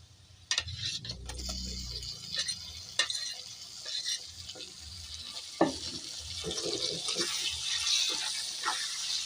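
A spoon stirs Kashmiri chili powder spice mix with chopped tomato in a pan, making soft scraping, light sizzling and occasional utensil ticks, close and fairly quiet.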